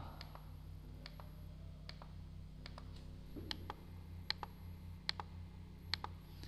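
Sharp, faint computer mouse button clicks come singly at irregular intervals, growing a little more frequent toward the end, over a steady low electrical hum in a quiet room.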